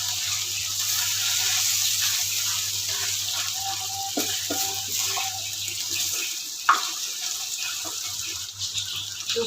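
Water pours steadily into a pot of mutton set for boiling, a continuous hissing, splashing flow close at hand. It shifts midway and then tapers off, and a brief clank follows.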